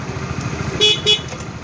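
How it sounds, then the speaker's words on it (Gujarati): Two short, loud horn blasts sound in quick succession over an idling motorcycle engine nearby. "હોરન ચાલુ"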